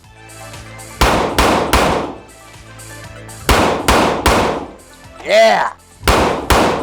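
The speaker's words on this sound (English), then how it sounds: "I'm just working the gun" A Glock 20 pistol fitted with a boresight is worked by hand, giving a series of sharp metallic clacks and clicks in irregular groups, close and loud, with a brief spoken word.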